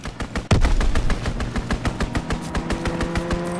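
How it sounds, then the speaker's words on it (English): Rapid automatic gunfire from a fighter plane's strafing run in a Call of Duty-style shooter, a dense burst of evenly spaced shots that opens with a heavy impact and carries on loud with a steady engine-like drone beneath. "Fighter pilot inbound, strafing the target."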